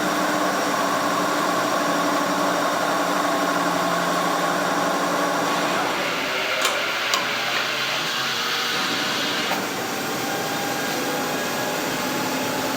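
A 1939 Dodge electric truck runs with a steady motor whine and hum as it shifts gears, the tone changing partway through with a few brief clicks, and no talking.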